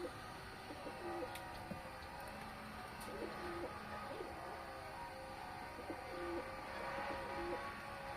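Racing pigeons cooing during a flight session outdoors, soft repeated low coos layered over a steady ambient background with faint chirps, moderately distant and continuous.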